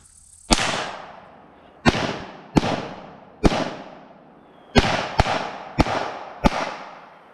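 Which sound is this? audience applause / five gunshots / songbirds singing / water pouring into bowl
five gunshots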